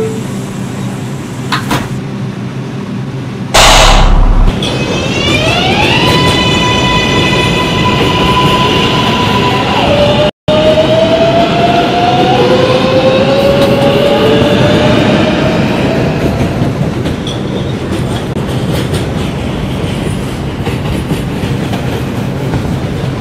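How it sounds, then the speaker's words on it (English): A New York City 6 subway train, Manhattan bound, heard from inside: a door chime and electronic tones, then the rising whine of the motors as it pulls away, with steady loud rumble and rail clatter throughout. "This is a Manhattan bound 6 train."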